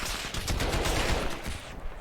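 An AK rifle in a Half-Life game fires a rapid automatic burst, a dense rattle of close, loud shots that runs for about two seconds with no talking over it.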